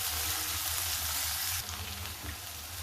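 Onion and three or four chopped green chillies fry in a pan for methi aloo paratha filling, a steady broadband sizzle that softens slightly partway through, with no talking.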